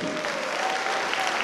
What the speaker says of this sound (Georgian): აი ესე ქმაურიანი ოვაციები არაჩვეულებრივ გოგონას